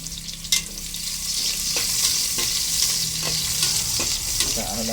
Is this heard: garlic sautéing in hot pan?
yes